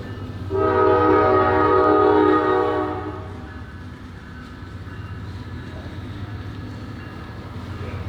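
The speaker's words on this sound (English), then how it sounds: "I've got to wait for the train." A passing train sounds a loud, sustained horn blast lasting a few seconds, then its heavy rumble rolls on steadily as the cars go by.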